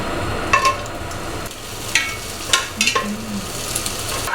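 Garlic and spring onions fry in a pan of oil, crackling in short bursts over a steady low sizzle with a few stirring clatters, close up and without any voices.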